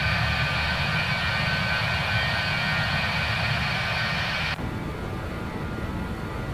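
A BAe 146-300 four-engine jet climbing out after takeoff from Mombasa International Airport in the X-Plane 11 flight simulator, a steady loud engine roar that drops abruptly in high-frequency intensity near the end, with no talk.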